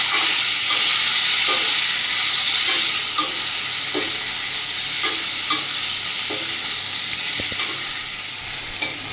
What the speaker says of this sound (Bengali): এই যে সোয়াবিনটাকে নুন আর গোলমরিচ মাখিয়ে রেখেছিলাম সেগুলো আমি হালকা করে ভেজে দিব